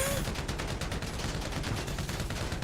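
A full magazine is emptied in GTA 5 Online, a rapid, continuous stream of loud gunshots that runs without pause for the whole stretch.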